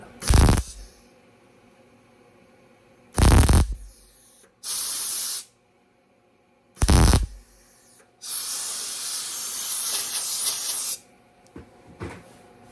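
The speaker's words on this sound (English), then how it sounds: "I like to weld a little hot, get a little hole once in a while" Patch panels being welded into a VW Beetle during rust repair: several loud, harsh hissing bursts of about a second, then one longer steady stretch of about three seconds and a final brief burst, with quiet gaps between and no talk.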